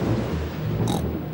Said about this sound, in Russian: Это гром, Пеппа.